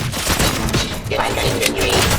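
Dense, continuous gunfire from the Robocop: Rogue City video game, loud and close, with rapid overlapping shots and thuds filling the whole short burst.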